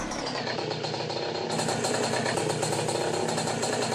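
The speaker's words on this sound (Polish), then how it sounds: "Jedziemy motorynko." A 7.5-horsepower moped engine in Farming Simulator 19 hums steadily as it rides, a continuous buzzing drone that grows slightly louder and brighter partway through, with no voices over it.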